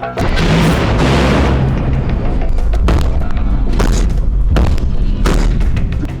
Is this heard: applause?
no